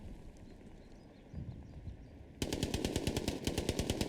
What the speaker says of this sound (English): Opbit looking to clear out this machine gunner